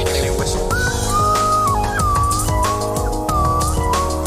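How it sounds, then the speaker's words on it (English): A slide whistle glides up and down in pitch in short swoops over a dense musical backing, played from a children's television program. "That's what they call a slide whistle."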